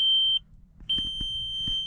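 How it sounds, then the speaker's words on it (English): Warning beeps from a 2002 VW EuroVan with a door open, two sustained high-pitched electronic tones separated by a short gap, loud and close, with faint clicks between them. "It's got some beeps going on. I think that might be the door open."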